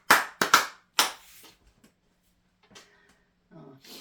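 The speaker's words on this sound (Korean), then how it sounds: "하나님께 우리 감사의 박수를 올리도록 하겠습니다" A Korean church congregation at Sunday worship gives a few sharp, close hand claps in quick succession, then falls nearly silent with only faint scattered rustles.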